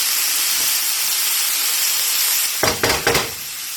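Garlic sizzles in a hot pan with a steady, bright frying hiss, followed near the end by a few sharp stirring or scraping bursts close by.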